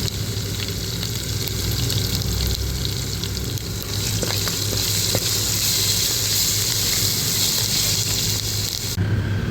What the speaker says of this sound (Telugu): ఇప్పుడు 2 రెబ్బలు కరివేపాకు వేస్తున్నాం